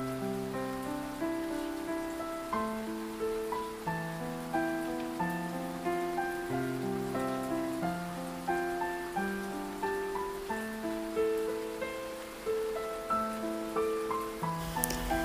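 Steady rain falling, a soft continuous patter that sits beneath gentle piano-like notes for the whole stretch, with no talking.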